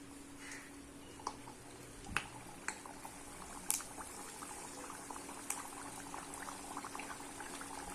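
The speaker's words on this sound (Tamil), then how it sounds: "கடாயில நான் ஆயில் ஊற்றி வச்சிருக்கேன். இப்போ நம்ம எடுத்து இந்த தட்டையை ஒன்று எடுத்து போட்டுக்கலாம்" Maida thattai frying in hot oil in a kadai, a faint steady bubbling sizzle with scattered soft pops and clicks, heard alone at low level.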